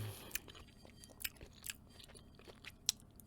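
Someone close to the mic bites and chews a piece of cantaloupe melon in a quiet room, giving soft wet crunches and several sharper bite clicks in an irregular rhythm.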